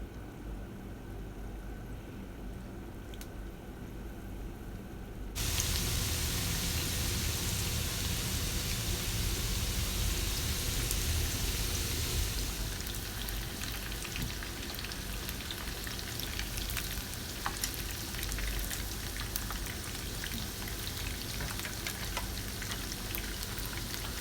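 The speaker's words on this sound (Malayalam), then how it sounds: "അപ്പോൾ ഞാൻ ഓയിൽ ഒഴിച്ചിട്ട് അത് ഹീറ്റ് ആയതിന് ശേഷം നമ്മൾ ചിക്കൻ പീസ് ഇട്ട് കൊടുത്ത് ഫ്രൈ" Chicken pieces frying in hot oil for restaurant-style chilli chicken, a dense, steady crackle that starts quieter and jumps louder after a few seconds, then holds alone without any voices.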